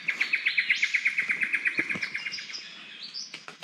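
Birds chirping nearby in a rapid repeating series of high tweets, joined by other overlapping calls and faint rustling.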